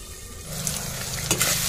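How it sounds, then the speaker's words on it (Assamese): Fried-rice vegetables being stirred in a hot pan, a steady sizzle with scraping spatula strokes and a sharp clatter near the end, close and moderately loud with no voices. "এইফালে এইখিনি ভালদৰে অকণমান লৰাই লওঁ অলপ লৰাই লৈ মই ঢাকন মাৰি পেলাই আধা সিজা হ'বলৈ দিম"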